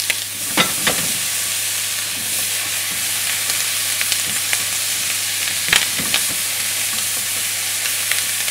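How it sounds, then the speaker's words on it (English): Bacon frying in a pan for a Caesar salad, a steady close sizzle with sharp pops and crackles of burning fat scattered throughout, a few louder snaps standing out. "the bacon will start to jump and pop a little bit as as the fat starts to burn through"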